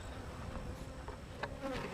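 Honeybees buzzing around a split hive, a steady, fairly faint hum that holds for the whole moment, with no voices over it.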